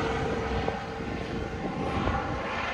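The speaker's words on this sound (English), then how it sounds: "he had to wait for this Coast Guard helicopter to go by before he hit his shot" A Coast Guard helicopter flies past over a golf course, its engine and rotor noise forming a steady, fairly loud drone throughout.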